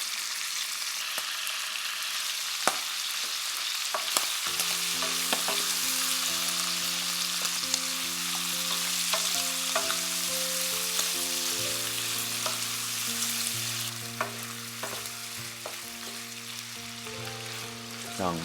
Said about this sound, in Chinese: 加入刚才炒好的墨鱼仔，在锅中充分的翻炒。